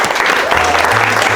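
Brief burst of audience applause for an artist at an artist talk, a short dense patter of clapping heard close and loud.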